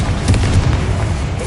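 A Confringo blasting curse explodes in a Harry Potter video game, giving a dense, rumbling boom that fills the moment with sustained, heavy, noisy roar.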